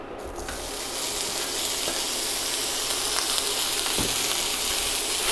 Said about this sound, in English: I've got 2 fairly thick slices of bacon here, and I'm gonna use them both, and I'm gonna get that in the pan